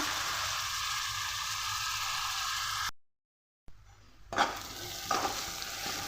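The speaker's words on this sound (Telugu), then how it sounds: "ఉల్లిపాయ బాగా వేగాలండి" Chopped onions fry in a pan for chicken curry, a steady sizzle with stirring that cuts out briefly, then returns more quietly with a few scraping strokes.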